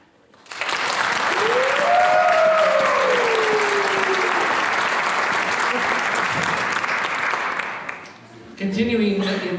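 Audience applause at a youth awards ceremony for a Personal Achievement nominee, a sustained broadband roar of clapping for about eight seconds with a tonal voice or cheer rising early, then tapering as a speaker resumes.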